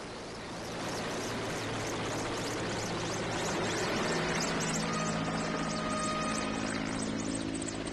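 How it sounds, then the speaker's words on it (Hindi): Army helicopter flying overhead during a flower-shower tribute to police, its rotor chop building from quiet to a loud steady roar that holds for several seconds. "सेना के हेलीकॉप्टर से की गई पुष्प वर्षा।"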